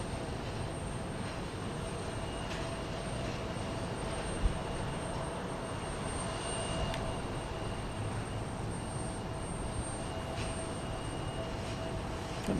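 An American Eagle regional plane taxis at Houston Intercontinental Airport, its engines a steady distant whine and rush that holds at an even level throughout.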